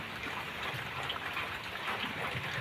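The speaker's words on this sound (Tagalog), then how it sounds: "Ang haba ng ulan." Heavy, steady rain falls during a prolonged, nearly week-long downpour over soaked, muddy ground, a dense continuous hiss of drops close by with no talk over it.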